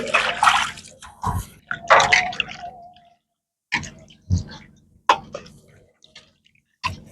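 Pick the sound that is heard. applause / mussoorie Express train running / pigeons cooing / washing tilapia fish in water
washing tilapia fish in water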